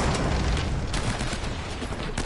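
Heavy gunfire in the video game Uncharted: Drake's Fortune strikes the player, a dense, loud, continuous barrage of shots and impacts with no pauses.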